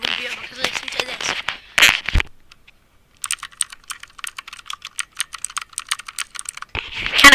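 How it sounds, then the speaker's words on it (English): Rapid typing on a mechanical computer keyboard at a gaming computer, dense crisp key clicks heard up close, with talking before and after the burst of keystrokes. "Mechanical keyboard."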